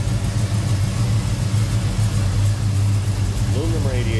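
A 1970 Oldsmobile Cutlass S with a 455 V8, ceramic coated headers and a Demon 4-barrel carburetor idles steadily with a deep, even rumble close by, with a voice speaking briefly near the end.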